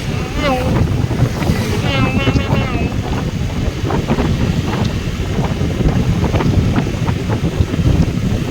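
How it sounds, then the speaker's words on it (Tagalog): Heavy wind on a mountain roars and buffets the microphone continuously, loud and steady, with a person talking underneath. "Talaga yung hangin. Ang hangin guys."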